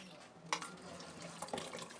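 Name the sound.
pouring cornflour slurry into soup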